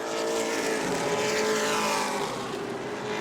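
A pro late model race car roars down the back straightaway at New Smyrna in the Shark Bite 100, a loud, steady engine drone that holds near and constant throughout with no talk.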